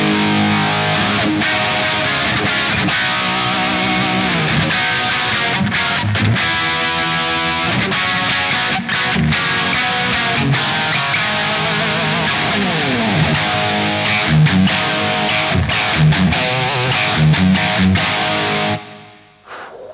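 Heavily distorted Gibson Slash Victoria Les Paul electric guitar played with high gain, loud and continuous with thick chords and riffs, alone without talk, cutting off sharply near the end.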